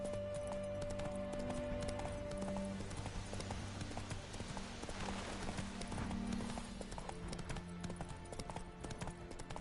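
Roach, Geralt's horse in The Witcher 3 on PS4, gallops with a steady, continuous clip-clop of hooves over game ambience and music throughout.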